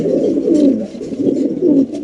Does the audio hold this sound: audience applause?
no